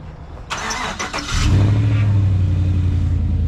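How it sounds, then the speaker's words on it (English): A pickup truck is remote started, giving a short raspy crank before the engine catches and settles into a loud, steady idle close by. "Let's go ahead and get the truck turned on."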